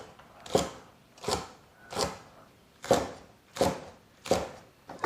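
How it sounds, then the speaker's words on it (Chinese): Scallions, garlic, green onion and celery chopped together into chunks with a knife on a board: about six steady, evenly spaced strikes, close and crisp, with no talking. "这里准备了一点葱王、蒜米儿、小葱，还有芹菜，把它们放到一起切成壳块"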